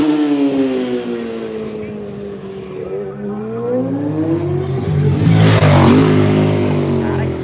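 A racing motorcycle passes at the Pre TT Classic road race near Castletown. The engine drone shifts pitch as it nears and roars loudly past, then a sharp, high rasp builds toward the end, with voices around it.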